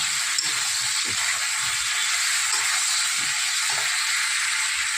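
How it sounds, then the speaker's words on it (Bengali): Green chillies and spices sautéed in a pan, a steady loud broadband sizzle with faint low stirring knocks beneath, continuous and close throughout. "এবার এটাকে দিয়ে ভালো করে কষাবো"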